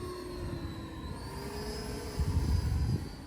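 RC F-18C Legacy Hornet with a 90mm ducted-fan jet, flying slowly with retracts, gives a steady whining turbine hum with a high tonal whistle that swells louder near the end, fairly close and with no talk.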